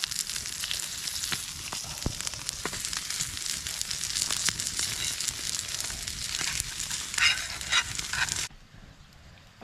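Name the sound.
steak sizzling over a wood fire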